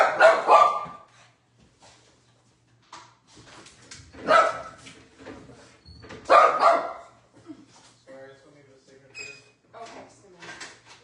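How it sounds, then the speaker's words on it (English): An excited puppy indoors barks in short bursts, several sharp yips and barks separated by pauses, with faint household clatter and some speech in between. "My puppy was barking like crazy"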